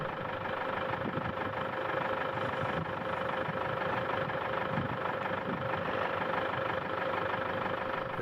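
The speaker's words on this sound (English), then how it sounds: "when Solomon revved that engine on the truck, that got this guy's attention." A steady truck engine rumbles continuously at moderate level with no clear rises in pitch, more like idling than revving, on a safari in Kruger Park; no voices.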